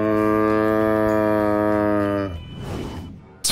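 A long, harmonic cattle-like lowing call, attributed to a tiger imitating cows, drones loudly and near for about two seconds before breaking off into breathy noise and a sharp final burst.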